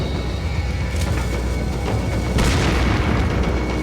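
Dynamite blasts in Resident Evil 4 set off a chain of heavy booms with sharp cracks and splintering debris, loud and continuous, with a second burst punching through near the end.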